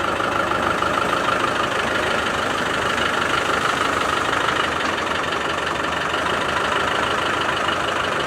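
A vehicle engine idles loudly and steadily close by while it reverses under an AluCab roof tent, a continuous low rumble with no talking.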